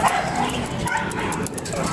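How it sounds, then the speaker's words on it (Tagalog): A dog barks and yips repeatedly at a moderate distance, with a person talking over it and steady background noise. "Simula na naman yung aso."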